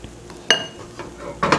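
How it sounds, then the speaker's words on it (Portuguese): Taiyaki batter thickened with tapioca starch being stirred in a container, with a few sharp clinks of a utensil against the side and a soft swishing between them, close by and without speech. "Eu preciso agitar a massa porque o polvilho tende a se acumular no fundo"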